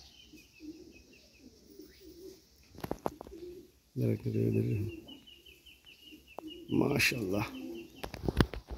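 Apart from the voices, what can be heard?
pigeons cooing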